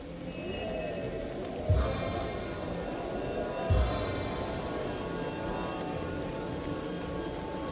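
Steady rain falls throughout a scene in the video game Divinity: Original Sin Enhanced Edition, a constant wash of patter with two brief, sharper thumps around the second and fourth seconds, and no voices.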